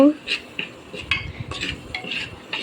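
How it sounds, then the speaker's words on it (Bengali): A spoon stirs beef and onions in a cooking pot with jackfruit seeds, making repeated clinks and scrapes against the metal at an irregular pace, close by. "দেখেন আমি কত সুন্দর করে নাড়তে আসি ভালোভাবে নাড়বো যেন পেঁয়াজটা সেদ্ধ হয়"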